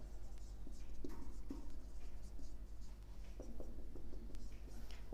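Marker strokes squeaking and tapping across a board during an accounting lesson, a steady series of short scratchy marks over faint room hum, with no clear speech.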